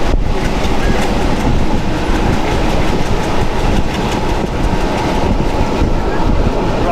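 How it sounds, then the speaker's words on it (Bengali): The Rocket Mail, a broad gauge express train, rushes at speed through a station without stopping, producing a loud, continuous roar and rattle of wheels on rails, heard close up from on board. "এখানে কিন্তু থামলো না ট্রেন, পুরো পাস হয়ে গেল।"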